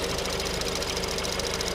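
A 2016 Ford Fusion's 1.5 liter EcoBoost engine idles with a steady, close, even hum and faint rapid ticking, with no voices.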